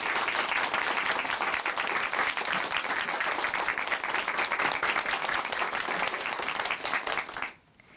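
Warm applause from a church audience welcoming a speaker, dense continuous clapping filling the room, loud and near, then cutting off abruptly at the end.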